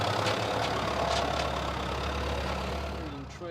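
A vehicle engine idles steadily during a pre-start safety check, a low, continuous rumble close by that holds even and eases slightly at the end, with a voice speaking faintly over it.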